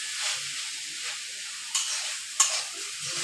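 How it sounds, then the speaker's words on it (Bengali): A mango pickle mixture sizzles softly in a kadai while being stirred, with a steady frying hiss and two sharp scrapes of the spoon against the pan, no talking. "একটু নেড়াচাড়া দিয়ে নেবেন।"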